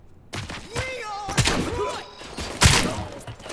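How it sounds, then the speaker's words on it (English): Explosions in the video game RoboCop: Rogue City: two sharp, heavy bangs with thuds and debris, the second louder, mixed with game voices and tonal effects. "That sounded like an explosion."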